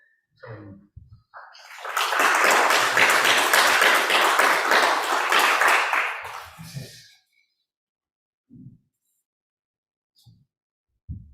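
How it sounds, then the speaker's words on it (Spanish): An audience at a Heidegger philosophy congress in Santiago de Chile breaks into sustained applause lasting several seconds, dense and even, then fades out, with brief speech before and after. "Así que recibimos con un aplauso."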